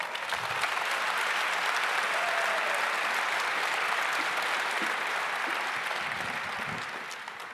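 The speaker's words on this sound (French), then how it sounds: "j'ai le bonheur d'accueillir Valérie Benotti, Cyril Desjeux et Mathieu Thiebaud sur scène sous vos applaudissements" An audience at a professional congress applauds panelists walking onto the stage for a round-table, a loud, sustained wall of clapping that holds steady and eases slightly near the end.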